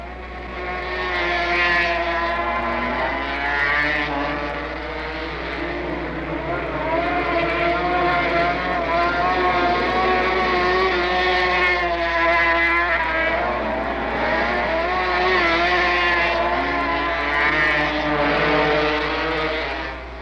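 A 1971-era Yamaha speedway motorcycle engine runs at a sustained loud drone through a race, its pitch rising and falling slightly as it holds speed without pause, with no speech over it.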